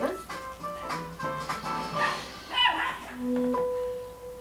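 Dogs next door barking and yipping in a series of short, fairly distant bursts, with a whine near the end, while someone talks over them.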